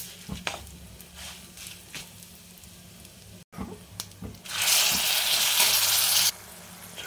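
A tempering of dried red chilli, curry leaves and asafoetida for tomato chutney is stirred in a pan. A few soft stirring scrapes come first, then a loud, steady sizzle of frying that lasts about two seconds and cuts off abruptly.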